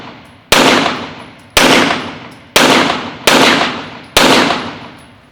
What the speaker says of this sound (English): Just put off 6 shots here and kind of give you an idea what that looks like.